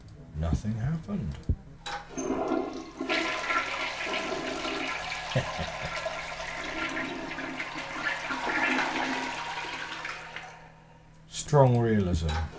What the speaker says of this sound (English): I hope there wasn't something in there that I just flushed away.